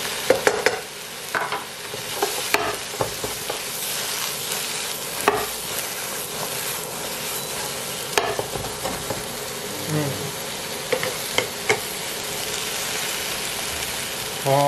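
Sliced angled gourd is stir-fried in oil in a pan, giving a continuous close sizzle broken by repeated spatula scrapes and taps.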